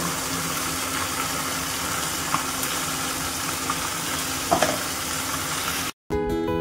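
Fish frying in a pan during a home cooking spread, a steady low sizzle with a few faint clinks of stirring, cutting off near the end.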